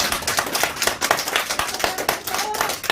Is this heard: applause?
yes